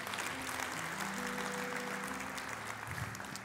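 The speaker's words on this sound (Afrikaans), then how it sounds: "Kom ons gee hulle 'n lekker hande klap" Hands clap in applause from a church congregation after a prayer, a dense, even wash of clapping lasting several seconds, with faint sustained tones running underneath.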